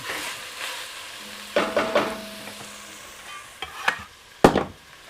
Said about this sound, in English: once these onions have had a chance to cook a little bit